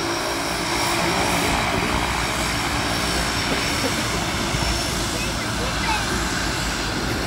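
Airplane engine at full power during a short-field takeoff at St. Maarten, a steady loud propeller-engine drone sustained throughout, with wind-like roar and no talking.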